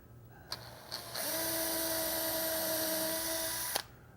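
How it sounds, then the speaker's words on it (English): Power drill with a small brad point bit pre-drilling holes in a wooden cabinet face frame, one steady high whine lasting about two and a half seconds after two short trigger blips, close and alone. "I'm going to go ahead and pre-drill these too. I'm just using a small brad point bit."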